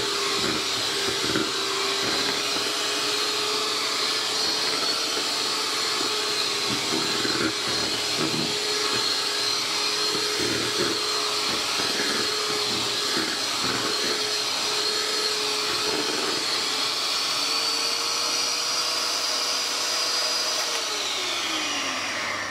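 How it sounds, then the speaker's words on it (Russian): An electric hand mixer whirs continuously through rye sourdough bread batter, a loud, steady high motor whine that holds for the whole stretch and slowly drops in pitch near the end. "И нам это дело нужно хорошенько перемешать. Для этого мы возьмем миксер."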